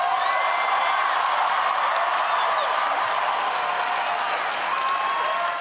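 A large crowd at a rally for presidential candidate Ted Cruz applauds and cheers loudly and continuously, a dense wash of clapping with occasional whoops throughout.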